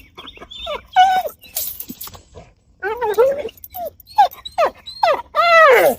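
A dog whines and yips in a series of short, high, close vocal bursts with brief pauses between them, with little else around.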